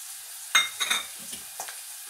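Garlic drops into hot oil for pachi pulusu, setting off a sharp sizzle followed by a few quieter spatters and stirring sounds against a near-silent background.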